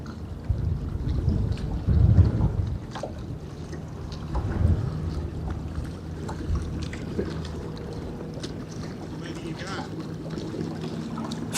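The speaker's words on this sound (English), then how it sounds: "Wow, became windy all of a sudden." Gusty wind buffets the microphone during a perch fishing trip on the water, rumbling in uneven low bursts, loudest early on and then settling into a steady blustery roar.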